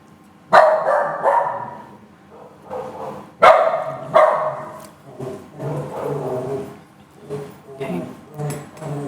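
A dog barks outside in several loud bursts, a few sharp barks, then a pause, then more. A person talks quietly indoors between and after the barks.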